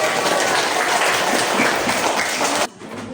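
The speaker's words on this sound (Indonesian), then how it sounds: "Oke, tepuk tangan buat Anda." Dense classroom applause for a participant in a training session, a steady wash of many hands clapping at close range that cuts off abruptly near the end, leaving quiet room tone.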